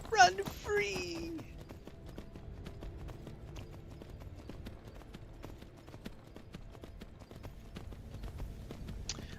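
Horse hooves clip-clopping at a steady walking pace in Skyrim, a faint regular rhythm of hoof strikes that carries on alone after a short sharp game sound at the start.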